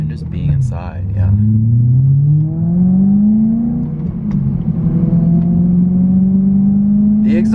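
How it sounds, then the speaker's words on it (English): A supercharged BMW E92 M3 engine drones and climbs in pitch as it accelerates through gears, a deep exhaust rumble heard from inside, with voices talking briefly over it. "The exhaust does have some sound to it"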